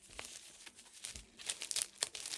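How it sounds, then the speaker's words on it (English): Mail package opened by hand, with soft crinkling and tearing of paper or plastic wrapping in short bursts, quiet and close with no talk. "I'm going to open it up and show what it is to you"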